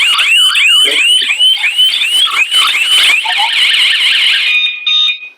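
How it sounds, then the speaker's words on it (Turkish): A loud wired electronic security alarm siren wails in fast rising sweeps, then shifts to a rapid warbling tone before cutting off abruptly. "Alarm cihazını devre dışı bırakır."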